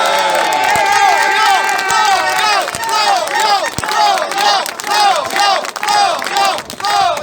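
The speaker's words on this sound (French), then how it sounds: "Je vous prie d'applaudir Florian Philippot." A loud crowd at a political demonstration in Beauvais shouts and cheers, with chanting voices rising in repeated waves and scattered clapping mixed in, close and energetic.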